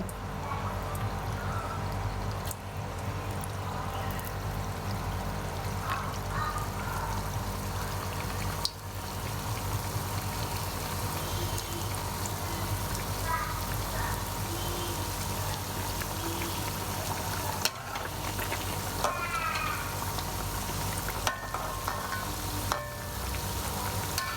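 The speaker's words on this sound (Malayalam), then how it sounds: "ഇനി നമുക്ക് എണ്ണ ചൂടായിട്ടുണ്ട്, നമുക്കിനി ഓരോന്നായിട്ട് ഇട്ട് കൊടുക്കാം" Snacks drop one by one into hot oil and fry with a steady, dense sizzle and crackle, punctuated by a few sharp clicks and bumps of utensils, close and continuous.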